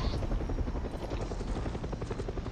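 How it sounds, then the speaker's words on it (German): A helicopter in the video game Far Cry 6 hovers close by, its rotor thudding in a rapid steady chop that stays loud throughout. "Und direkt der Hubschrauber, ne?"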